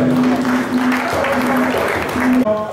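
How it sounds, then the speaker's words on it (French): Audience applause at a gathering honouring a speaker, dense clapping held steady for a couple of seconds over a sustained tone, then cut off abruptly near the end. "Est-ce qu'on peut applaudir pour lui, s'il vous plaît?"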